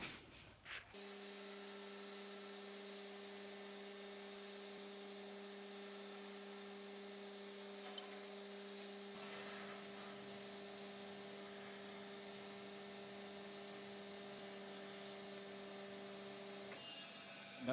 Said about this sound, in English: So we get that on the bandsaw.